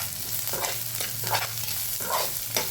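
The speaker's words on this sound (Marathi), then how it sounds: "त्यात मी काही लसूण टाकते. 4-5 पाकळ्या अशा कट करून घेतलेल्या आहे चाकूने. त्या देखील फ्राय करू." Chopped garlic cloves frying with browned onion in a pan, a continuous soft sizzle broken by regular spatula stirring strokes, no talk.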